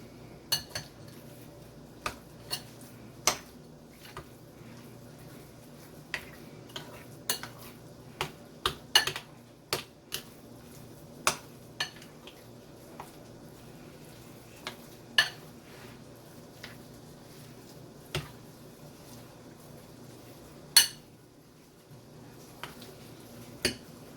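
Keema mince for kebabs is mixed in a bowl, heard as quiet irregular clinks and taps of a utensil against the dish over a faint steady background.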